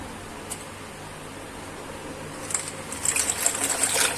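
Pasta drops into a pot of hot water with a soft bubbling and trickling, building into livelier splashes and bubbles near the end.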